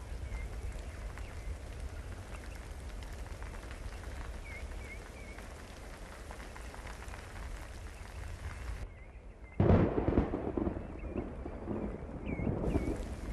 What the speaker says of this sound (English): the rain now starts to pour down